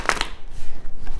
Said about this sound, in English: I've got so many decks to shuffle.